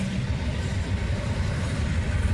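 Loud, continuous rumbling roar of an intermodal freight train with five engines passing close by at La Crosse, Wisconsin, a dense, steady rail-car din with no voices.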